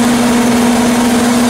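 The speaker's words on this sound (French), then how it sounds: "Voilà le V12, 6 litres" An Aston Martin 6-litre V12 engine runs at a steady idle, giving a loud, close, unchanging drone with an even low hum throughout and no voices.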